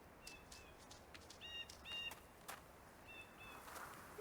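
Forest ambience in the video game The Vanishing of Ethan Carter, with a few short, high bird chirps scattered over a quiet, steady background, alone and without talk.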